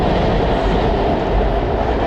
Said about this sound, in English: There's the MARTA, the passenger train that runs on these elevated platforms alongside the old train tracks